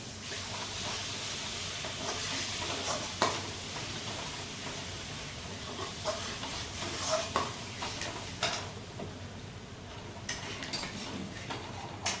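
Fish curry masala sizzles in a pan after water is poured in, a continuous soft hiss broken by scattered clinks and scrapes of a spoon stirring against the metal.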